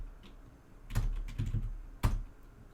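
Typing on a computer keyboard, a few quiet close keystrokes in a short irregular burst followed by one sharper key press, with no talking.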